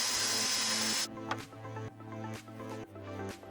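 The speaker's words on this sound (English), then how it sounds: "with a hole saw attachment, I drill where the lines intersect" A power drill fitted with a hole saw attachment bores into wood, starting with a bright high whine that then drops into a steadier grinding cut with rhythmic pulses, close and alone.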